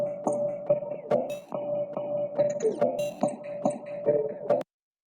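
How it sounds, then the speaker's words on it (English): A drum loop in an FL Studio beat plays alone, close and clear: a steady pattern of sharp percussive hits over a sustained tone, with rhythmic regular strikes ending abruptly before a short silence. "and then I had like a drum loop."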